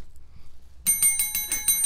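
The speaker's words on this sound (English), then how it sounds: "The Bell is a new addition." A small bell on a talk show ringing rapidly in a bright, insistent run of repeated dings after a moment of near silence, loud and close.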